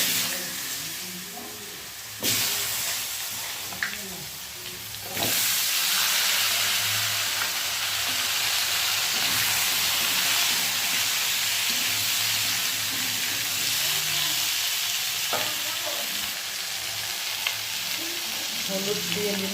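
Vegetables hit hot oil tempered with nigella seeds, setting off a loud, continuous sizzle that surges after a couple of sharp additions and stays bright and steady, with occasional stirring clatter.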